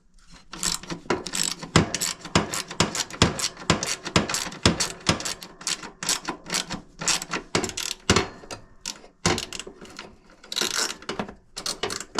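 A ratchet wrench clicks in quick repeated bursts while backing out bolts on a Craftsman riding mower's starter solenoid, close and fairly loud with brief pauses between strokes.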